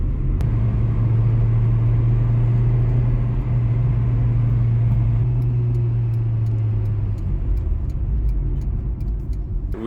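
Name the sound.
Acura Integra car driving on the road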